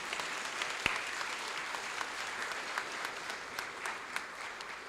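A full crowd applauds steadily for about five seconds, a dense crackle of many hands clapping with no voices over it.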